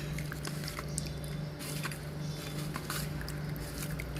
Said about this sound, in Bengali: খুব ভালো করে মাছগুলোকে নুন হলুদগুলো মাখিয়ে নিচ্ছি